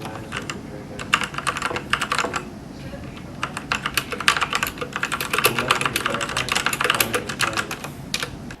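Typing on a RedDragon Kumara K552 budget mechanical gaming keyboard, a rapid run of clacky keystrokes in irregular bursts and flurries, close and clear with no talking.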